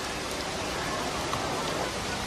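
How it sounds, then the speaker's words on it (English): Heavy summer monsoon rain pours over the low-lying city of Mumbai, a dense, steady hiss of falling water with no breaks, moderately loud throughout. "Every summer, the rain is so heavy, this low-lying city is flooded."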